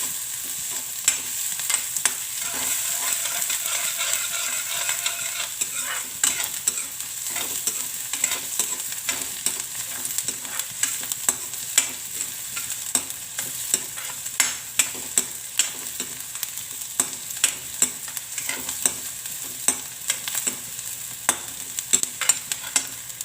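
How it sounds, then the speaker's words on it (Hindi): Onions fry in a pan over a gas flame, a continuous soft sizzle broken by frequent scraping and stirring clicks from a utensil, heard close and moderately quiet. "अब मेरी प्याज भुननी शुरू हो गई है।"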